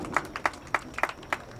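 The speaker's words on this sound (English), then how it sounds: "As everyone claps it up for him" A small crowd at a boys' varsity high school soccer game claps for an injured player, with sparse, separate hand claps in an uneven rhythm over a short stretch, moderately near.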